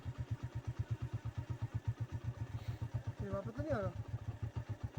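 Motorcycle engine idling on a bike tour, a steady, rapid low putter with even pulses throughout, close by, while people talk over it.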